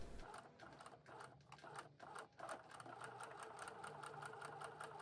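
A sewing machine topstitches along a dart seam on a fitted skirt, running close and steady in one continuous rapid whir with a brief slowdown partway through.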